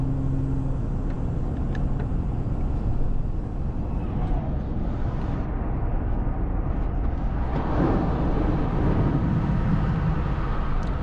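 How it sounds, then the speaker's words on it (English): A 2025 Mercedes GLE 53 AMG hybrid coupe downshifting inside a tunnel gives a steady, loud engine drone with reverberant swells as the gears drop, heard from the cabin. "So let's try some downshifts."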